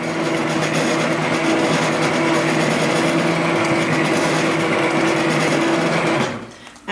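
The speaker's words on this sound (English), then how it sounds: "So now I'm going to blend this up." Blender running continuously on roasted red pepper and tomato soup, a loud steady whirring motor drone that holds for about six seconds before winding down abruptly at the end.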